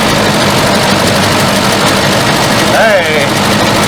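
A 1974 Volvo 142 engine runs steadily at a low rumble, loud and close, with a brief whistling tone rising near the end.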